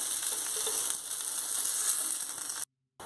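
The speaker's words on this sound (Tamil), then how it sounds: "வெண்டைக்காய் வதங்கிடுச்சு இப்போது இதை எடுத்துடலாம்" Okra (ladies finger) frying in a pan for a gravy, a steady close hiss of sizzling oil with faint stirring scrapes, running continuously before cutting to silence near the end.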